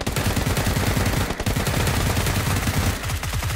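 Sustained rapid gunfire in the video game PUBG fills the clip, loud and close, with dense automatic bursts and a brief gap midway before the shooting resumes.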